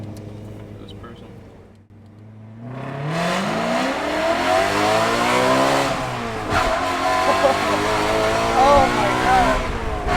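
A 2013 BMW E92 M3 with a six-speed manual and an open Valvetronic exhaust revs loudly and climbs through gear changes, the engine note rising and dropping in repeated sweeps, with a brief exclamation from a bystander.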